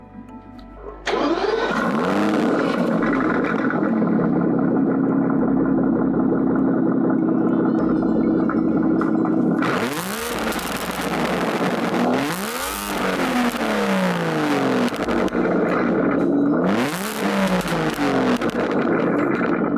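A V12 5.2-liter twin-turbo car engine with 715 horsepower cranks and fires at an auto show, then settles into a loud, close idle broken by three sharp revving blips toward the end.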